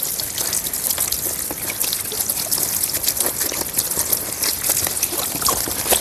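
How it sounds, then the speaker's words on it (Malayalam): Water poured steadily over an air conditioner filter to rinse it, a continuous close splashing trickle with scattered droplet patter running unbroken throughout. "ഇതിലാദ്യം വെള്ളം ഒഴിക്കണം. വെള്ളം നല്ല രീതിയിൽ ഒഴിച്ചതിന് ശേഷം"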